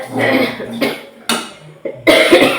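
A series of harsh, close coughs, about four or five bursts with brief pauses between them, loud and raspy.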